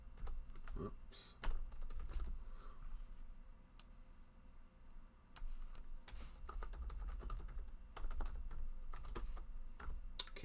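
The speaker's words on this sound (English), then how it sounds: "Can't type on this new keyboard," Someone types on a new computer keyboard in short bursts of key clicks and taps, close and fairly quiet, with brief pauses between runs.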